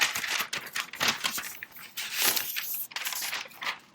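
Protective plastic wrap is peeled off a silver 2024 M3 MacBook Air 13-inch, giving close, crisp crackling and tearing bursts in several quick pulls.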